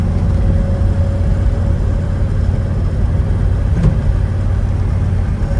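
A 1966 Chevelle SS with a 396 V8 and 4-speed transmission cruises along, its engine giving a steady loud low rumble from inside the car, with no one speaking over it.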